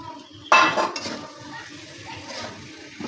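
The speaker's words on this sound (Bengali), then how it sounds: "আমার মরিচ পেঁয়াজগুলো কষানো হয়ে গেছে, আমি এখন আলুগুলো দিয়ে দিই পাতলা পাতলা করে।" Thin slices of potato drop into a pan of frying chilli and onion masala with a sudden clatter, then a soft sizzle and light scraping of a utensil continue close by.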